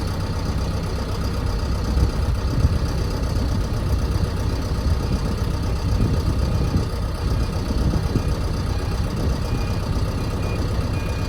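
An RNLI inshore lifeboat engine idles at Blackpool with a steady low rumble, continuous and moderately near, with no voices over it.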